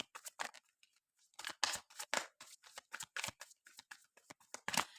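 Cards being shuffled nearby, a faint series of short, dry riffling and snapping bursts separated by brief pauses, with no one speaking.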